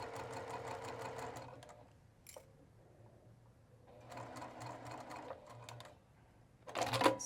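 A sewing machine stitches fabric in short bursts, a rapid mechanical whirring chatter that runs, pauses, then runs again, with a low motor hum underneath and a brief burst at the end.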